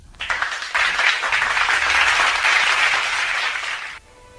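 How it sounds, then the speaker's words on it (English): A room full of people at an opening ceremony applauds an engineer, a warm sustained wash of clapping that starts abruptly, holds steady for about three seconds and cuts off sharply. "let us give a warm applause to Engineer Rogelio M."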